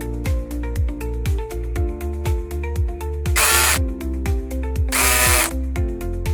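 A power tool drives mounting bolts into a mini tractor's seat bracket, whirring in repeated rapid pulses with two louder, longer bursts of high-pitched grinding, close and loud.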